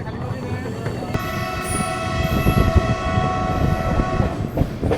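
Rajdhani Express pulling out of Badarpur Junction, its horn blaring in long sustained blasts over the rumble and clatter of the moving train, loud and close throughout.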